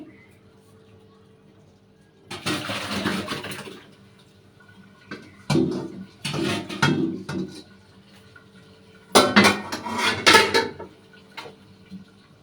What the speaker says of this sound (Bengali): আমি দুইটাই একই পাত্রে ঢেলে নিচ্ছি।